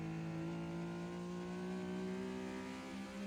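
A Porsche in the GT Legends racing game is heard from an on-board view, its engine holding a steady, sustained tone at moderate volume with no talk over it.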